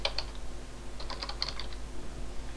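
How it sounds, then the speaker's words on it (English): Quick bursts of keystrokes on a computer keyboard, a few clustered clicks then a short pause before another flurry, close and fairly quiet. "so I can type here"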